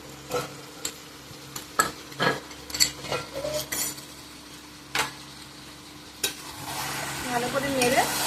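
Poppy seed chicken masala sautéing in a pan, a soft sizzle broken by sharp ladle scrapes and taps against the pan at an uneven rhythm, close by, with the frying swelling louder near the end and no voices.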